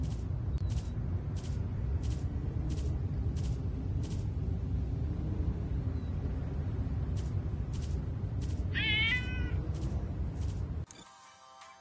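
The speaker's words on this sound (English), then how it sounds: "these cats are pissed off at me" Angry cats in the video game Postal 4 yowl and meow, with a dense rumbling game soundscape, a run of evenly spaced high chirps, a short rising wail near the end, then an abrupt drop to a quieter buzzing tail.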